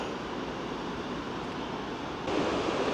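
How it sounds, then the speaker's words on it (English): A river near Eidfjord, Norway, gives off a steady broadband rush, heard from outdoors. It grows louder near the end, and no one speaks over it. "We are definitely starting to hear that river now."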